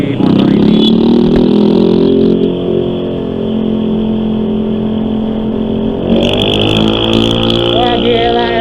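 A Yamaha XMAX scooter engine revving as it accelerates, its tone rising and holding loud and close, climbing again toward the end.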